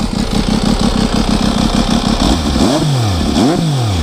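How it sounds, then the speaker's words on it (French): A motorcycle engine runs close by, loud and steady, with a throbbing idle that then revs up and down twice in rising and falling sweeps, with no speech over it. "je vais vous faire quand même écouter un petit peu le bruit de cette magnifique"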